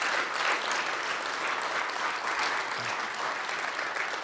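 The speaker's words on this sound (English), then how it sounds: "I think we should give them a round of applause," An audience at an Eagle Scout ceremony claps in steady, sustained applause that fills the room evenly for several seconds, with no single voice standing out.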